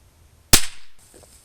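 A single sharp rifle shot cracks out nearby while an optic is sighted in, its loud report decaying quickly after a brief quiet lead-in.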